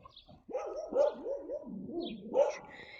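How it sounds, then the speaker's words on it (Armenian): Dogs bark and yelp in a burst of overlapping, wavering cries after a short quiet start, fairly close and loud with a couple of sharper peaks. "Լավ չի, որ դուք այդպես հաչում եք"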